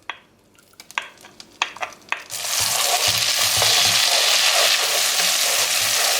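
Tomato and pepper paste stirred into melted butter in a pan: a few sharp spoon taps and scrapes at first, then a loud, continuous sizzle with the occasional scrape of stirring, no voices.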